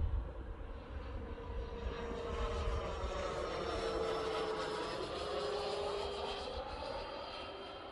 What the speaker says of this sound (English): That is the best sounding EDF jet I've ever heard.